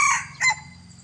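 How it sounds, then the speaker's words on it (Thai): A hybrid fighting rooster crows once, a short bright call with a second rising burst, fairly close and clear over a quiet morning background. "ได้ยินเสียงขันก็ชื่นใจแล้วผม"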